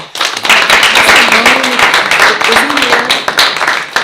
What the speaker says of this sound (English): I would like us to just give them a round of applause